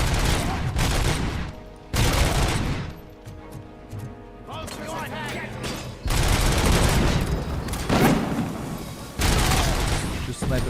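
Sniper fire rings out in the video game Robocop: Rogue City as a run of loud, booming gunfire bursts with dense battle noise between them, under someone talking.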